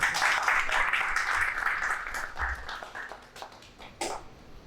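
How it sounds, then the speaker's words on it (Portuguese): Audience applause at an academy plenary session, a broad wash of clapping that is fairly loud at first and gradually thins toward the end, with faint voices underneath. "Palmas para você. Palmas."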